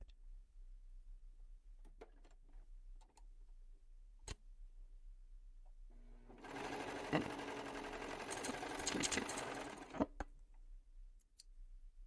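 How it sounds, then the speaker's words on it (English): A sewing machine runs a straight stitch along a snap placket in one steady burst of about four seconds, following a quiet stretch with a few faint clicks. "You can use your regular machine as well, the straight stitch if you prefer."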